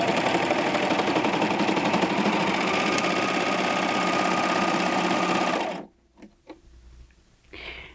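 Baby Lock Acclaim serger stitching through four doubled fabric layers, a fast steady mechanical whir running loud and continuous, then stopping abruptly with a few faint clicks after.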